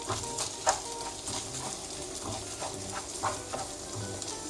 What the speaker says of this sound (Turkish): Birkaç dakikada böyle pirincimizle birlikte soğanımızı ve baharatlarımızı kavuralım.